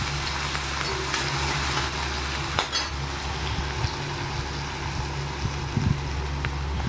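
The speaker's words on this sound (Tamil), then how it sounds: "இதை நல்லா வாணலியில் போட்டு வதக்கிக்கலாம்." Onions and green chillies sauté in hot oil in a kadai for palak paneer, a steady close sizzle under a low hum with a few soft stirring clinks.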